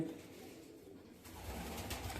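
Small-bodied low-flyer pigeons in a large loft in Panchagaon, Akola, Maharashtra, coo softly and steadily up close, with a low rumbling murmur that swells in the second half.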